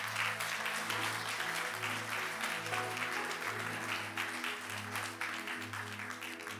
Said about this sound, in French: pourrait donner encore une main d'applaudissement pour le réveil qui arrive en France